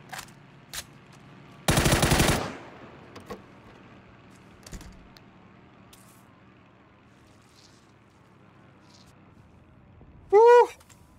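Gunfire in the battle royale game PUBG: a loud burst of rapid automatic shots lasting under a second, followed by a few isolated distant shots and a sharp ringing tone near the end over quiet ambience.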